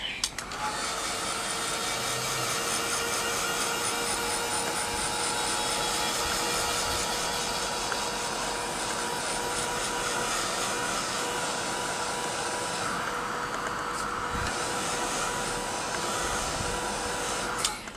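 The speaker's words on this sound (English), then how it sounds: "So I've just got my dryer." A hair dryer blows steadily for the whole stretch, used to dry paint on a wood surface, a loud constant broadband whoosh with a faint whine and only slight shifts as it is moved about.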